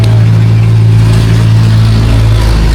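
A loud vehicle with a likely holed exhaust passes close by, its rough, throaty engine droning steadily with a deep rumble throughout, no voices over it.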